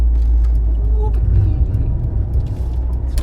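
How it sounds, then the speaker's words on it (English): 1997 Renault Twingo 1.2 driving and cornering, a close engine drone and road rumble from inside the car, with a person talking over it. "Some Renault cornering for you"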